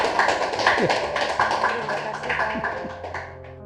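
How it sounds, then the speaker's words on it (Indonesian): An audience at a talk show applauds a world-record award with brisk, irregular clapping that slowly thins out, while voices and scattered sounds carry on underneath. "Tepuk tangan untuk rekor dunia."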